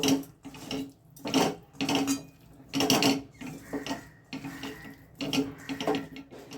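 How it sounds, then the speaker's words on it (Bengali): Hands are rinsed under a running kitchen tap after mixing raw fish with chilies, giving irregular close splashing bursts as the hands move in and out of the stream. No one speaks. "এখন এই হাতটা ধুয়ে"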